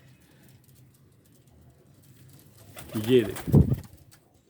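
Pigeons coo softly in a loft, giving a couple of low, throaty calls close by after a quiet stretch of faint background murmur. A brief spoken phrase is heard.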